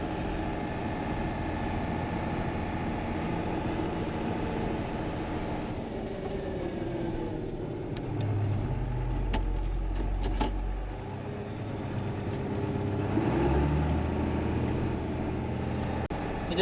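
Farm tractor engine running in a field while plowing, a steady low rumble with rattling and clanking, getting heavier and louder partway through as the load changes, with no talk.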